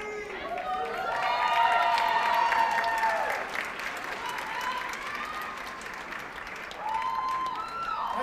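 A school assembly crowd gives a sustained round of applause, loud and steady through most of the stretch, dipping briefly midway before swelling again, with voices mixed into the clapping.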